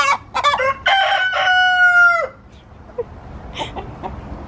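A rooster on a small backyard farm lets out a long, loud crow after a few sharp clucks from the chicken flock, then faint scattered clucking continues in the background.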